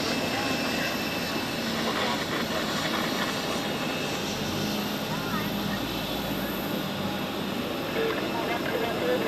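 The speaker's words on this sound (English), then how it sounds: "Just in time for the Emirates A380 takeoff." An Emirates Airbus A380 takes off at Zurich Airport, its engines producing a loud, steady, broadband roar that fills the whole stretch, with someone talking over it.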